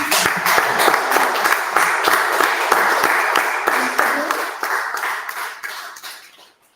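A lunchtime lecture audience gives a lecturer a round of applause, with loud, dense clapping that holds steady and then tapers off and fades to silence.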